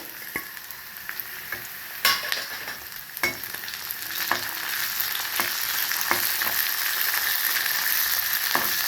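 Curry leaves and onions fry in hot oil for chickpea sundal (shanagala guggillu), a constant crackling sizzle punctuated by sharp clicks and scrapes of a stirring spoon against the pan.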